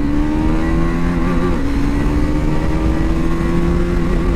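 A KTM Duke motorcycle accelerates hard during a top-speed run, giving a loud, close, continuous engine drone with rising pitch and some crackle from the exhaust.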